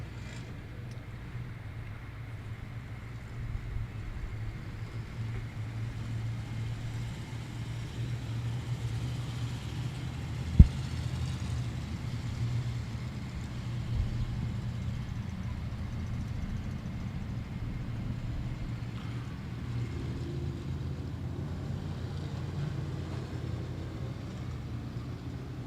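Field of nine Jr. Limited Modified race cars circling a dirt track during a heat race at Rocket, a steady distant engine drone throughout with one sharp bang near the middle.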